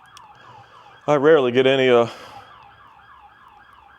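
A wailing emergency vehicle siren passes outside a house, rising abruptly to a loud, warbling peak for about a second before fading back into a faint repeating siren in the distance while a person speaks briefly.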